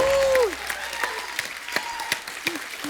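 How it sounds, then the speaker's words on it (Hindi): A studio audience on a Hindi talk show claps in a brief burst after a tonal musical sting, the applause thinning into scattered individual claps and short musical accents. "जोरदार तालियां हो जाए एक बार."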